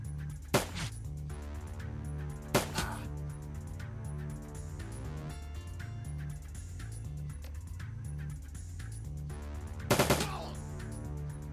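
Gunfire in Shadowrun: Dragonfall: three sharp, isolated shots spaced a few seconds apart, the last a quick double burst, over a steady droning game music bed.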